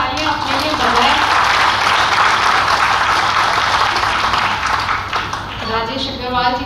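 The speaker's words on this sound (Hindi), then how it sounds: "एक बार आप जोरदार तालियां अपने लिए बजाएं।" Loud applause from the audience at a Hindi-Urdu poetry recital, a steady wash of clapping that continues for several seconds and tapers toward the end, with a voice faintly heard over it.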